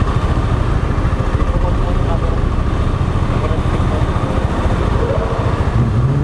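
A freshly washed motorcycle belonging to Melvin idles steadily at close range, a smooth continuous engine rumble throughout with faint background sounds.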